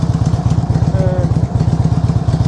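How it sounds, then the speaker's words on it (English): A motorcycle engine idles steadily at a rough, even pulse, close and loud, ticking over on the road with a faint mechanical clatter and no talking. "I've left the engine ticking over while I do this"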